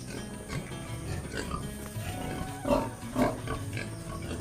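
Pigs on a small village pig farm give soft, low grunts, with a couple of louder snorts near the end over quiet rustling, close by.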